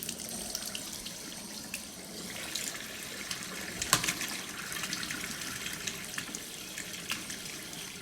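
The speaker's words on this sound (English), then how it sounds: "you just have to run the water through until it runs freely" Water running steadily from a bathroom or sink tap just after a dripping tap repair, with air sputtering out of the pipes, a continuous hiss with one brief louder burst, no talking.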